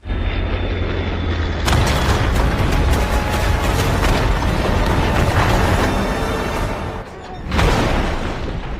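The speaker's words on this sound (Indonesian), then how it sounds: "Tapi karena ledakan itu cukup besar, si Mbah pun menjatuhkan truknya ke lautan." A missile explosion in an action movie, a heavy roaring blast that erupts suddenly and rumbles loudly for several seconds, dips briefly, then surges again.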